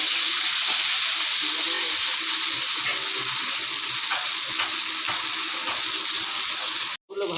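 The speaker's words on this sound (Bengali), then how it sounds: "বেগুনগুলো একটু ভেজে নিই। হলুদ দিয়ে দিলাম, লবণ আগে দিয়েছি, দিয়ে একটু ভাজা ভাজা করে নামাবো।" Eggplant pieces frying in hot oil in a pan with turmeric and salt, giving a loud, steady sizzle with faint stirring that runs without a break, with a sudden brief drop near the end.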